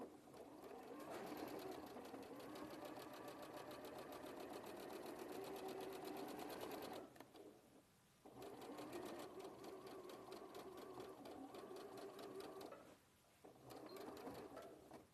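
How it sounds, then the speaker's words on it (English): A sewing machine stitches a dart from notch to point in fabric with interfacing, a steady rapid whirring stitch running for several seconds, pausing briefly twice, then resuming at a constant close, moderate level without talk. "So I'm just going to sew straight from the notch up to the dart point."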